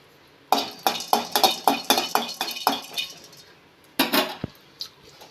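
Cardamom, peanuts, almonds and cashews dry-roasting in a metal kadai: a spatula clinks and scrapes against the pan in a steady run of about nine strokes, a short pause, then a few more sharp taps.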